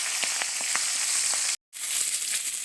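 A catla fish head frying in hot oil in a wok gives a steady close sizzle, with scattered sharper crackles and pops early on and a brief dropout midway.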